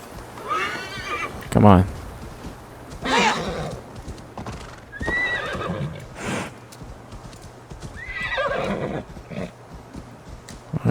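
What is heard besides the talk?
horse neighing and hooves in video game Assassin's Creed Valhalla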